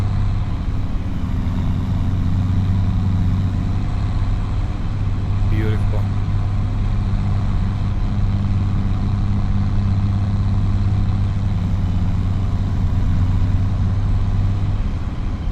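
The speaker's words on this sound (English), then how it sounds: "What is this? A Cummins engine?" A Cummins diesel truck engine idles with a steady low rumble throughout, while a voice briefly speaks near the middle.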